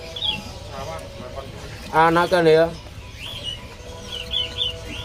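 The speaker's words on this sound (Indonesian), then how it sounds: "Ini ada burung ciblek" A young, already independent bar-winged prinia (ciblek) chirps in short, light bursts at a bird market kiosk while someone speaks briefly over the market background.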